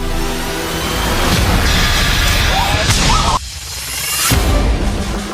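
A LEGO model hit by an object on a slide rail at 100 km/h makes a loud rushing whoosh that builds into a crash, then cuts abruptly to a quieter swell.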